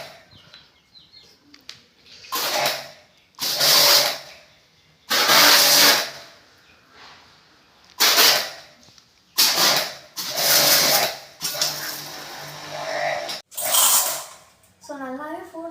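A TEXUM TX-25 2000 watt electric car washer sprays in repeated loud hissing bursts of a few seconds each, separated by short quiet gaps, with a voice briefly heard near the end.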